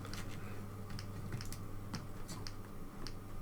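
Keys on a ZX Spectrum 16K computer keyboard are pressed one after another, each a soft, close click in an irregular typing rhythm over a low steady hum.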